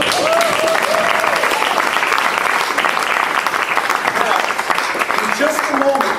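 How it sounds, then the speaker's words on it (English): Audience clapping for stage performers at an actors' showcase, a dense, steady round of applause lasting several seconds with a few voices audible over it at the start and end. "give them a round of applause"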